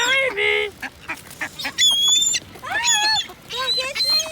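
Ducks and seagulls at feeding time in a harbor in Nyack, New York, honking and squawking in repeated bursts close by, with short gaps between calls.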